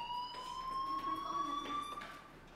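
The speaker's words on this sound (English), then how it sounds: "Hey, do you hear that fire alarm?" A school fire alarm in Life Is Strange rings as a steady, sustained electronic tone, fairly faint and constant, with no talk over it.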